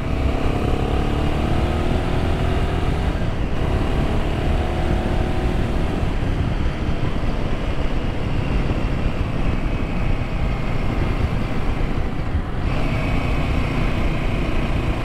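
Royal Enfield Himalayan 450 adventure motorcycle engine running steadily while riding, a loud continuous drone with shifting pitch and wind rush throughout, no talking.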